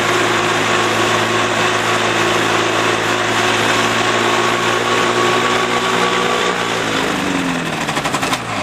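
A Sport Rotor gyroplane's engine runs loud and steady as the rotor blades spin up toward 200 RPM, then the pitch drops and a rapid chopping pulse emerges near the end.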